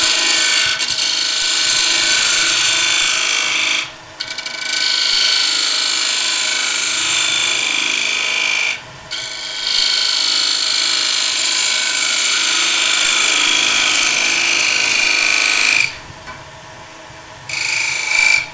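Wood lathe spinning as a half bead is cut on a wooden table lamp: a loud, steady mechanical whir with a whistling edge, broken by three short pauses where the tool lifts off.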